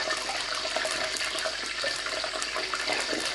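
Samosas sizzling as they are lowered into hot oil in a pan, a steady, dense hiss and crackle of frying that fills the clip at even loudness with no talk.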